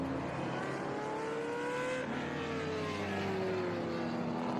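Racing car engines roar continuously at a Mid-Ohio SpeedTour race, a steady drone with rising and falling engine pitch as cars pass and lean through the corners, loud and sustained without any speech.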